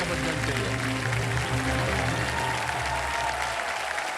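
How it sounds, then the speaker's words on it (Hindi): Loud, steady applause from a game show studio audience, sustained clapping throughout with no pauses. "जोरदार तालियां बजाने के लिए"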